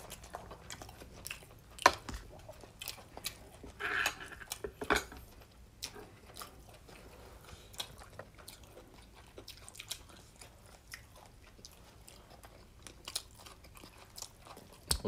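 Two people eat beef brisket served alongside doenjang stew and jjolmyeon, with close, soft chewing and occasional crunchy bites, plus faint taps of cutlery against dishes scattered throughout.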